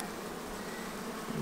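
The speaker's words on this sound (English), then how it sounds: "All right, so you can see all of these bees right here." Honey bees in a hive box, Italian or Carniolan, make a steady faint buzz that continues without break and without voices.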